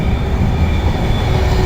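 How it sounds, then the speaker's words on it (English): A Virgin passenger train passes through Birmingham International station on its run from Wolverhampton to London Euston, giving a loud, steady close-up rumble of wheels and carriages with a faint high whine and no voices. "here comes the 1420 Virgin train service from Birmingham to from Wolverhampton"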